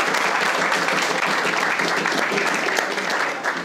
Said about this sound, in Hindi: तो पहले तो पाकिस्तान के लिए तालियां।